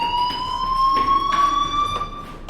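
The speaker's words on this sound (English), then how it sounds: "Hey, do you hear that fire alarm?" A fire alarm rings in the video game Life Is Strange, a steady electronic tone with bright harmonics holding loud and continuous throughout, with no talk over it.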